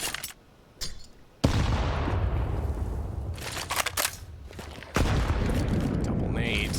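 Two grenades explode in Counter-Strike on the Dust2 map during a professional match, as sudden loud booms about three seconds apart, with broad rumbling blast noise and gunfire under excited commentary.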